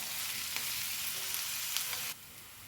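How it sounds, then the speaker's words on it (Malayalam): Sliced onions fry in coconut oil in a pan, giving a steady close sizzling hiss with a few soft stirring scrapes, before the sizzle drops sharply near the end; no one speaks. "ഉള്ളി ഒന്ന് വഴന്ന് വരട്ടെ നല്ലോണം ഈ വെളിച്ചെണ്ണ കിടന്നിട്ട് ഒന്ന് നല്ലോണം വഴന്ന് വരണം കേട്ടോ"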